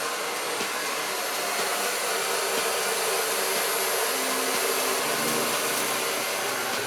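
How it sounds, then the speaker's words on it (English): A hair dryer blows steadily and loudly throughout while a brush works through the hair during a voluminous blowout styling, a constant whooshing roar with a faint shifting tone near the end and no talking. "So when I go in with the dryer, it's gonna be mostly to help to seal that cuticle, add the shine, polish the ends"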